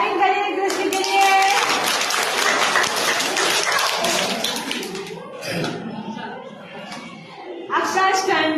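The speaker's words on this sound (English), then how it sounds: "Clapping करिए कृष्ण के लिए" A classroom of children clapping for a classmate: a burst of quick, close, overlapping claps that fades after a few seconds, with children's voices and a teacher's speech around it.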